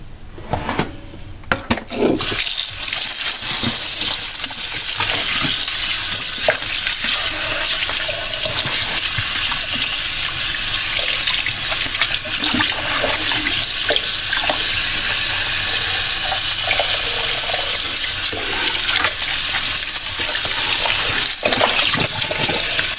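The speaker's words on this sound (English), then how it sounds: "Now I'm going to run a little cold water over them." Cold tap water runs steadily over brined whole chickens in a kitchen sink, a loud, continuous splashing gush that starts abruptly and keeps going without pause.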